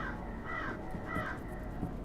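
Several crows caw in a row in the Shadowrun Returns video game, loud harsh calls repeating at a steady pace over a low ambient background with no talk.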